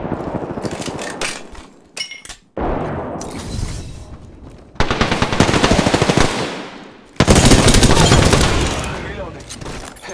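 Video game gunfire in bursts, loud close automatic fire in long sustained volleys separated by short pauses, with occasional voice underneath.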